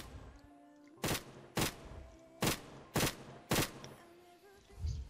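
Five sharp, evenly spaced gunshots ring out in a Roblox battle royale game, loud and close over quiet game ambience, with one softer shot near the end.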